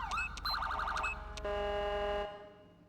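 Electronic police siren tones from a Grand Theft Auto V LSPDFR mod with ELS, cycling through several patterns, loud and close, then cutting off abruptly, ending in quiet.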